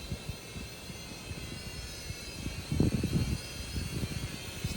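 A small SHRC SH7 toy-grade brushed quadcopter drone flies outdoors after a crash, its steady high motor whine running continuously with faint low rumbling bursts beneath, moderately distant and fairly quiet.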